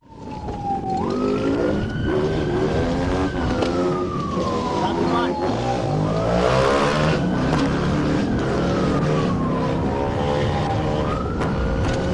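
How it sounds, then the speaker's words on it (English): A state trooper's police siren wails up and down continuously, loud and close, over the rumble of a moving vehicle during a pursuit of fleeing motorbikes. "The trooper activated his emergency lights and siren to initiate a traffic stop"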